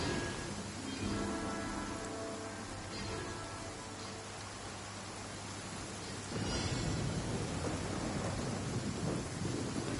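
Steady rain in Genshin Impact with a rolling thunder rumble, a broadband wash of falling drops that thickens into a louder downpour partway through, no voices.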